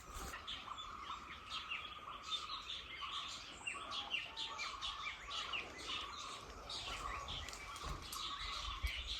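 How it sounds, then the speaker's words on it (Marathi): Many small birds chirp and tweet continuously in quiet open afternoon air in rural Maharashtra, their calls overlapping at a moderate distance with no talking. "पक्ष्यांचा आवाज दुपारचा कसा येतोय ते ऐका नुसतं, दाखवतो तुम्हाला आता."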